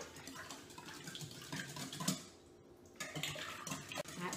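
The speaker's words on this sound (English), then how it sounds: "with our whisk, we're gonna go ahead and take those wet ingredients and we're just gonna whisk them" Wet muffin ingredients, including sour cream, being whisked in a bowl for partridgeberry muffins, making a quiet, steady run of light clinking and scraping strokes with no talking.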